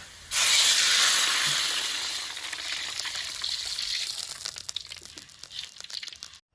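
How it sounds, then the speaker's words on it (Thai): Shallots and garlic fry in oil in a home kitchen, a loud sizzle bursting in at once and easing to a steady crackling hiss, with small pops and spatters near the end. "เจียวหอมกับกระเทียมเนี่ย ให้สุกเหลืองนะยาย"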